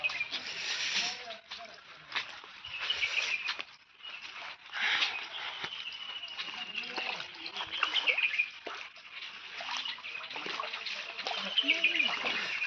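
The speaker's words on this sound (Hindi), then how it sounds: "हमारे गांव में जोरदार बारिश होने की वजह से ये नदी भरी चुकी है" A village river running high and fast after heavy rain, steady rushing and splashing water close by, with someone talking over it throughout.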